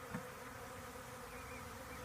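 Bees buzzing around a hive box, a dense, continuous low drone of many insects close by, steady and fairly quiet with no voices.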